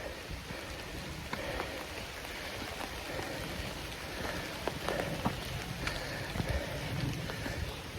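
Rain falls steadily through a thin spot in the forest canopy onto a soaked trail, a dense, even patter with scattered louder drips and water trickling down the path, no voices.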